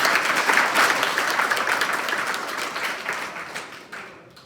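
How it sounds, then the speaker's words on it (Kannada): A crowd of students at a protest gathering claps loudly in a dense, sustained burst of applause that slowly thins and fades over a few seconds. "ಒಂದು ಜೋರಾಗಿ ಚಪ್ಪಾಳೆ ಹೊಡಿ"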